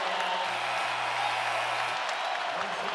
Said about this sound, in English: The crowd fired up from